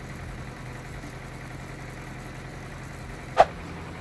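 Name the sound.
tractor engine running while backing up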